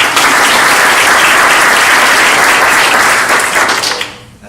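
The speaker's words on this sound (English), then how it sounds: "And a round of applause for them as well, too." An audience at an annual meeting applauds the state Youth of the Year judges, loud sustained clapping that holds steady for several seconds and then dies away quickly at the end.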